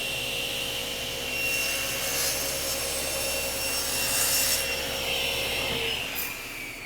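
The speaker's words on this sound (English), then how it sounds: "So that's the table saw." A table saw cutting half lap joints in wood, a steady loud whine and rushing hum running continuously with slight swells as the blade passes through the stock.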